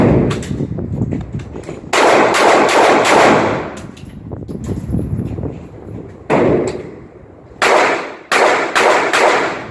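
Repeated gunfire from a pistol range during concealed-carry training, with loud bursts of rapid shots coming in clusters separated by short pauses, fairly close and with no talking.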